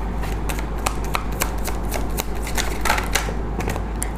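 Tarot cards are shuffled and handled up close, a continuous run of soft riffling and flicking snaps with sharper card slaps scattered throughout over a low steady hum.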